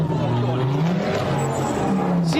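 A car peels away with its tires skidding while a person stands in front of it, a broadband engine roar with rising squeal close and loud, amid excited voices.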